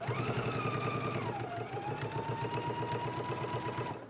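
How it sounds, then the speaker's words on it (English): A sewing machine stitching a shirt collar along a basting line at the neckline edge, running steadily and close with a rapid, even mechanical rhythm for about four seconds before easing off at the end. "So I'm going to go ahead and just stitch following along with my basting stitch now."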